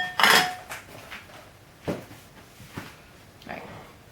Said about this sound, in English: So now we just mix all that together.